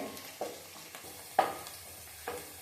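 Onions fry in a pan during cooking of an avarekaalu pudina rice bath, a soft steady sizzle broken by a few sharp stirring scrapes, quiet and close, with no voices.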